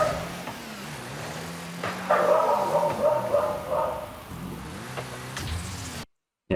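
A dog barks in the background of a room during Rocket League gameplay, giving a short series of muffled yips and barks over steady game engine hum, with the sound cutting out briefly near the end.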